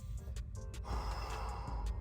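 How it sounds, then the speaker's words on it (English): A person takes a deep breath in during a hip stretch, a soft rushing inhalation heard faintly against a low background hum. "take a deep breath in"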